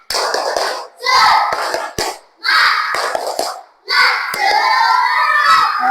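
Classroom of students performing a rhythmic 'tepuk semangat' spirit clap in three loud bursts of patterned clapping mixed with children's shouting and chanting voices, separated by brief pauses, close and energetic.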